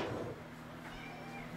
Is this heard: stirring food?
no